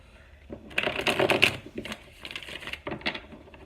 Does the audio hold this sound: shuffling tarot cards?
yes